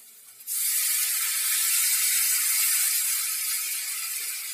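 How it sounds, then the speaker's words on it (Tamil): Water pours into a hot pan and sets off a sudden, steady hiss that stays loud and even for several seconds. "தேவையான அளவு தண்ணி ஊற்றிக்கலாம்."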